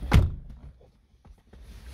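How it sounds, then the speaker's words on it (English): A single solid thunk at the start, probably a car door opening, followed by faint shuffling and soft rustles in a quiet setting. "Let's open the door."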